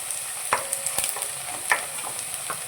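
Onion and peanuts sautéed in a pan give a soft, steady sizzle, with a few sharp clinks of a spoon stirring against the pan.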